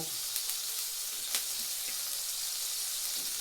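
Ginger, garlic and onion paste fries in hot mustard oil with a steady, soft sizzle and a few small pops, close and continuous with no talking.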